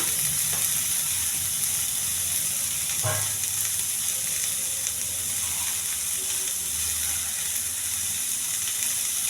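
Ivy gourd (dondakaya) fries in a pan with a little salt, giving a steady, close sizzle with a brief clunk partway through.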